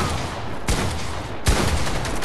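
Gunfire in the Fortnite video game, with two sharp loud shots about a second apart over steady busy game noise and no voices.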